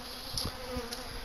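Honeybees buzz at a hive during a midwinter apiary check, a soft steady hum with a few individual bees droning past close by, and no voices.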